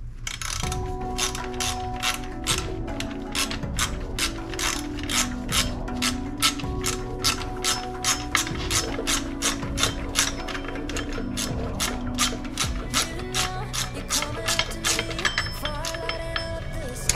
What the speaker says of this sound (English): all I gotta do for this one is just to install it with a 10 millimeter socket